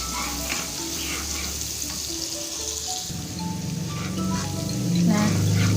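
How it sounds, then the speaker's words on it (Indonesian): Shallots and garlic sizzle in melted margarine in a pan, a steady close frying hiss with soft crackles and occasional stirring scrapes, growing slightly louder toward the end. "Setelah panas margarinnya dan meleleh, kita masukkan bawang merah dan bawang putih, lalu kita tumis sampai dengan harum."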